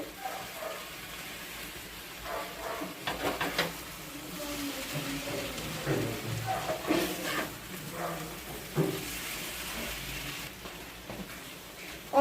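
Mixed fish fries on medium flame in a pan, a quiet continuous sizzle with occasional crackles and clinks of a utensil, fairly faint and close, no talking.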